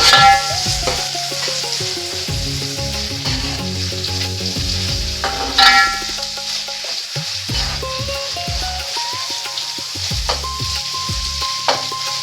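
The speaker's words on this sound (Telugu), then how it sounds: "మళ్ళీ కొంచెం పచ్చివాసన పోయేదాకా వేయించుకుందాం." Small eggs fry in a pan with ginger-garlic paste, giving a steady, close sizzle with occasional stirring scrapes and clinks throughout, and no talking.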